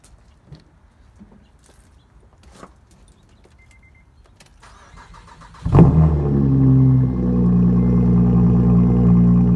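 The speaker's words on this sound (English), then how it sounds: "I'll set that up so you guys can hear the cold start." Faint clicks and rustling in near silence, then an Acura Type S car engine cranks and catches with a loud burst, settling into a steady, high cold-start idle.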